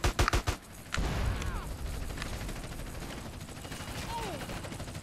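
Gunfire in GTA San Andreas: a quick loud cluster of close shots at the start, then a dense wash of game noise with fainter scattered firing underneath and talk over it.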